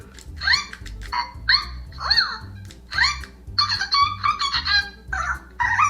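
A toy dog's electronic barking, a run of short yapping barks in quick bursts over a repetitive low mechanical hum, fairly loud and close.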